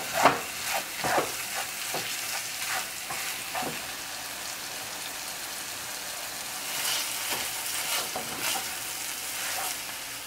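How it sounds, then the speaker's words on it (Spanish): Homemade chorizo fries in hot oil, giving a steady close sizzle with crackling pops and scraping stirs of a spoon in the pan, and no one speaking. "yo tengo aceite caliente. Aquí lo vamos a freír"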